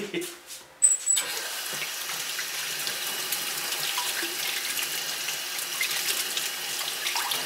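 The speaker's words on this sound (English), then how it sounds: "Now what we've got to do is wash hands." A steady, moderately loud stream of water runs from a tap as hands are washed in a pottery studio, preceded by a brief thump and short splashes before the flow settles into an even rush.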